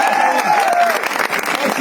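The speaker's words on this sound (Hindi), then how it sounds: "आपकी जोरदार तालियों से," Loud clapping from an audience at a luxury car celebration event, with crowd noise and a voice coming through partway.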